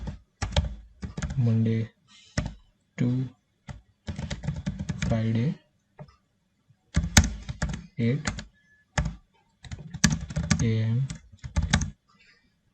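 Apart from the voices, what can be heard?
typing on a computer keyboard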